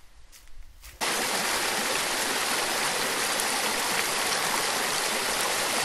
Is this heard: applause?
no